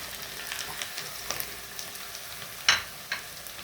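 Onions and kabsa spices fry in a pan with a soft, steady sizzle, punctuated by a few sharp clinks and scrapes of stirring; quiet, close and without speech.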